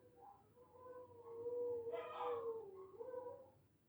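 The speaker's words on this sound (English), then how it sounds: "the dogs start howling" Dogs howl in a long, rising and falling chorus, one voice swelling louder in the middle before the howls taper off; fairly close and fairly faint, with no talking.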